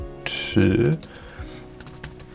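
Quick clicky keystrokes on a Supernote A6X2 hardware keyboard, close and crisp, come in short bursts while a voice speaks briefly.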